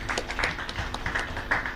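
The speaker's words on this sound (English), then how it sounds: "So I think she needs a round of applause." A round of applause at a parliamentary committee round-table engagement in Uganda, with steady, moderately loud clapping from a seated audience lasting under two seconds.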